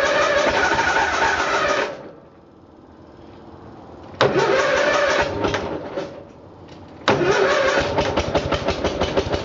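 An Onan engine on a Case garden tractor cold-starts: a loud burst of cranking and running, a brief lull, then two further bursts that settle into a rough, pulsing, chugging run close by.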